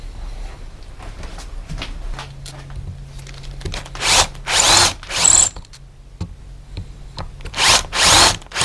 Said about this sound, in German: Und bohren die Nieten aus.